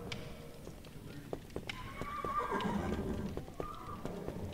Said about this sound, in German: Die Pferde haben mich gewittert und werden unruhig.